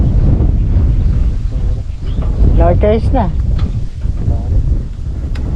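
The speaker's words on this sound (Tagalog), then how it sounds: "Kaso mahangin na oh." Strong wind at sea buffets the microphone with a constant low roar during a coastal airgun fishing outing, while someone speaks briefly over the gusts.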